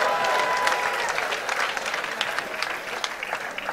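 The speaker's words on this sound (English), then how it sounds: "Clap your hands right there." Audience at a business and wealth seminar claps together in a dense, steady burst of applause, loud and continuous, with a few voices faintly mixed in.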